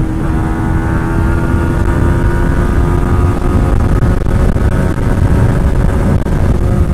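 A Yamaha MT15 motorcycle accelerates hard through its gears, its engine a loud, close, continuous roar with a rising buzzy drone and no pauses.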